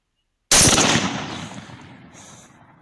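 Single loud rifle shot fired at a wild boar outdoors, a sharp crack with a long rolling echo that fades over a couple of seconds.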